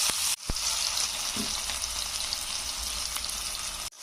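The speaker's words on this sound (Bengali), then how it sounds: "পেঁয়াজটা একটু ভালো করে আমি ভেজে নেব" Chopped onion fries in hot mustard oil in a pan, a loud continuous sizzle with a couple of sharp clicks and brief breaks, close and alone without talk.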